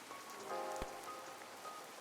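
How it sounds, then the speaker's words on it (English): Rain falls steadily in the Paralives life simulation video game, a soft, dense patter of drops on a surface with one brief sharper tap, faint and even throughout with no talk. "Because this one has rain."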